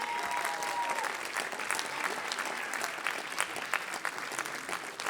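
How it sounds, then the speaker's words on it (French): Concert audience applauding steadily throughout, a dense, sustained clatter of many hands filling the room at moderate loudness with no talk over it. "Applaudissez-les."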